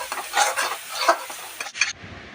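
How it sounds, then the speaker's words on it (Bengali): Spice paste with chili powder frying in oil as it is worked with a spatula, a close sizzle with rhythmic scraping strokes that stops abruptly near the end. "আর এখন ভালো করে কষিয়ে নেব যতক্ষণ না তেল বেরিয়ে আসছে।"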